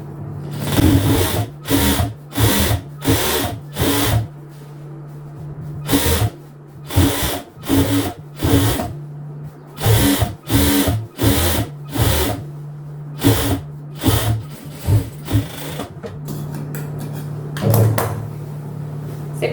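A sewing machine stitches a seam on a half-circle maxi dress with a princess cut, running in a series of short, close bursts separated by brief pauses, with no voices.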